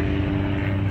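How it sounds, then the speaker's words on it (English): A helicopter passes overhead near a field, a loud, steady droning rotor and engine roar with no speech. "hello helicopter, why are you so loud?"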